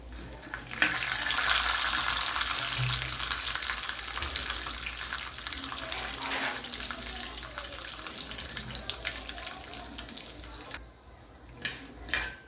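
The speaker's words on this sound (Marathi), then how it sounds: "बघा मस्तपैकी डाळ भाजून झाली" Dal (lentils) dry-roasting in a pan, a soft continuous rustling sizzle with occasional scraping stirs and faint clicks, moderately quiet and close, with no talk.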